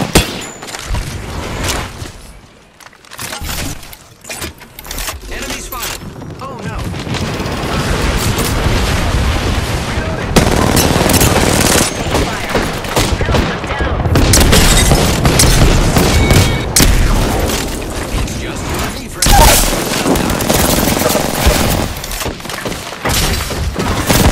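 Video game gunfire: dense, loud booming volleys and rapid shots roll almost without pause for over twenty seconds, with explosive thumps and brief lulls in between.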